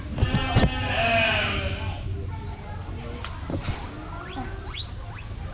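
Several hungry goats bleat close by, rising and wavering, with a person talking at the start and noisy outdoor background throughout.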